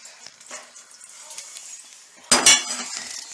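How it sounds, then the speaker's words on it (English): Cooked broccoli dumped into a metal colander: soft clinks and rustles, then a sudden loud splashing clatter as the contents hit the colander, fading into dripping and settling. "We're just going to dump it into the colander."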